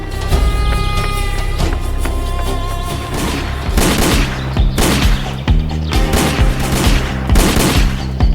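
Gunfire in an Italian Zagor audio drama: bursts of loud, sharp shots and volleys crack out in quick succession over a tense background score, close and punchy with repeated clustered impacts.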